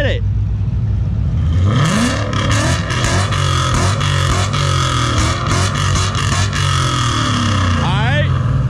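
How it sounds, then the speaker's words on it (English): A built, turbocharged Ford Mustang S197 with a Coyote V8 revs hard and loud up close, the engine note climbing and holding in aggressive bursts with raspy exhaust throughout. "now I'm gonna get a little closer because the turbo's exhaust is up front"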